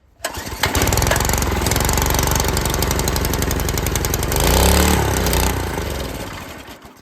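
A freshly rebuilt Predator 212 small engine runs on half choke, a loud, close, rough chugging drone that surges and wavers in pitch for several seconds before dropping away, with no talk.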